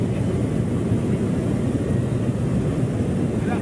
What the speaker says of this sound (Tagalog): Hanggang sa ngayon ay nakasunod pa rin sa atin yung Chinese fighter jet